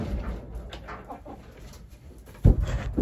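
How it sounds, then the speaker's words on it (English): Hens cluck softly and intermittently inside a chicken coop where one hen is getting ready to lay on the floor, with a louder burst of clucking and movement near the end. "there's a chicken getting ready to lay on the floor over here"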